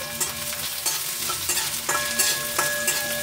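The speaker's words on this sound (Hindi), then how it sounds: "अब हम इसमें प्याज ऐड करेंगे। प्याज को हल्का सा ब्राउन करना है, 1-2 बार इसे इस तरह से चला लें।" Sliced onions fry in hot oil in a pan while being stirred a couple of times, cooking aloo chop Bihari style; a steady sizzle carries throughout with a few scraping stir strokes close by and no talking.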